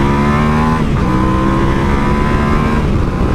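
A Yamaha Ténéré 700 on-off-road motorcycle accelerates on a test track, its engine note steady and loud throughout, rising slightly in pitch with a brief change near one second.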